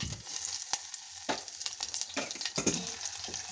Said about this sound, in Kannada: ಇವಾಗ ಸ್ವಲ್ಪ ಫ್ರೈ ಮಾಡ್ಕೊತಾ ಇದ್ದೀನಿ.